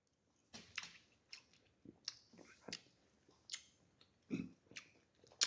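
Someone bites and chews Cara Cara orange segments up close, giving a series of wet, squishy bites spaced roughly half a second apart in a quiet room.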